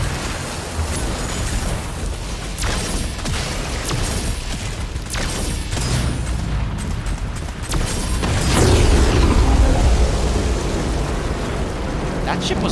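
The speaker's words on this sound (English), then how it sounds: "That ship was louder than the other one." A massive ship in the video game Doom: The Dark Ages roars past amid booming explosions and dense rumbling battle noise, swelling louder and heavier toward the end.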